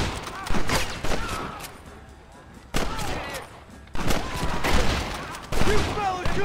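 A shootout in Red Dead Redemption, with loud bursts of several close gunshots in quick clusters separated by brief lulls, with voices shouting in between.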